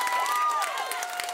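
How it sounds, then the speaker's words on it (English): Loud, continuous applause and cheering from a crowd of parents at a school meeting in Massapequa, filling the short stretch with steady clapping and scattered whoops. "Explosive applause from this crowd of parents in Massapequa tonight"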